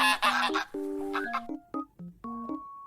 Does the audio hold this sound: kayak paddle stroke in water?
no